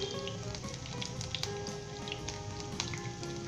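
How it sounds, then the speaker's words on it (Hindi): Green chilies and ginger frying in hot vegetable oil for a Lahori potato and pea curry, giving a steady, dense sizzle with faint crackles throughout and no voices. "1 से 2 मिनट तक हम इसे वेजिटेबल ऑयल के अंदर लाइट गोल्डन ब्राउन करेंगे"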